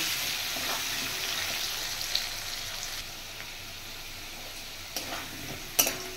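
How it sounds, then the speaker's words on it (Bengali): Potatoes seasoned with turmeric and salt fry in hot oil in a kadai, a steady close sizzle with faint stirring and a few sharp utensil clinks near the end. "এবার আমি আলু ভেজে নেব।"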